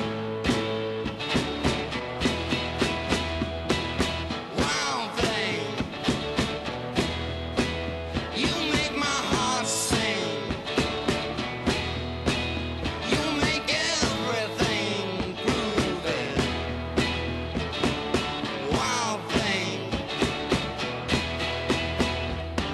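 A driving 60s rock riff on electric guitar, chords strummed in a steady, punchy rhythm with drums, loud and continuous with no talking.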